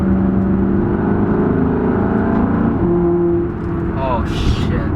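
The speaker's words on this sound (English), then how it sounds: "This car sounds absolutely insane." A Maserati GT engine drones loudly and steadily on a foggy mountain road, its tone shifting slightly as it pulls, with a voice talking over it near the end.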